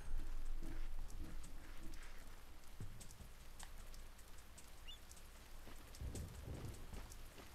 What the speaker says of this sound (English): Oh, look, you made it rain.